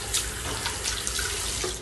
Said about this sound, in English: Now with cold running water or hot water, now apply soap.